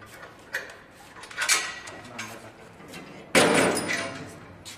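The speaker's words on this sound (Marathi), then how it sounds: "यानंतर हे सिलेंडर इकडे तिकडे पडू नये म्हणून आपण काय करू, याला साखळीने घट्ट बांधून घेऊ।" A metal chain wrapped and tied around oxygen and acetylene cylinders on a trolley, scattered clinks and taps, then a louder sustained metallic rattle and scrape close by, with no talking.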